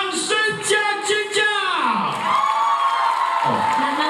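Audience at a live outdoor concert in Pingzhen's Shanziding Park screams and cheers loudly and continuously, with a high sustained shriek that glides downward, over a steady crowd roar.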